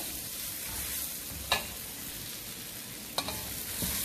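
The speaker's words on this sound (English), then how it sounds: "When it's nice and smells good, that garlic and ginger, put the onion." Onion dropped into a hot pan with garlic and ginger, giving a steady low frying hiss with two sharp bursts of sizzle as pieces hit the oil, and a faint stir near the end.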